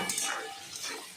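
Onion, garlic, ginger and chili paste frying in a pan for a cauliflower curry, giving a quiet, steady sizzle with soft stirring scrapes throughout.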